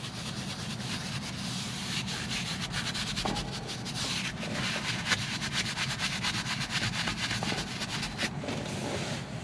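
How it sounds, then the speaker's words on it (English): Soft, continuous rubbing of a microfiber cloth wiping foamy cleaner off a Tesla Model 3/Y headliner, a quiet, close scrubbing texture with no talking. "use the microfiber cloth, wipe it down"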